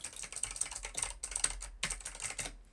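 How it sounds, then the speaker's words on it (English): Rapid, irregular clatter of keys on a computer keyboard during gameplay, picked up by a USB gaming microphone, steady and close, with no voices. "So that's how it sounds with keyboard clutter in the background"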